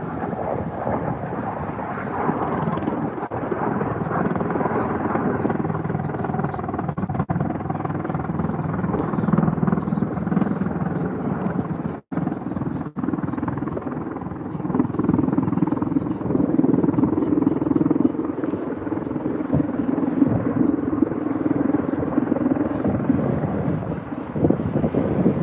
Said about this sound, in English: I think it's an Osprey too.